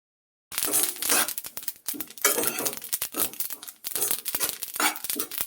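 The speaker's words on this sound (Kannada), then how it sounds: "ಎಳ್ಳು ಒಂದೊಂದೇ ಸಿಡಿಲಿಕ್ಕೆ ಸ್ಟಾರ್ಟ್ ಆಗುತ್ತೆ." Sesame seeds dry-roasting in a pan crackle and pop in dense, irregular bursts, close and crisp, with scraping stirs between them and no voices.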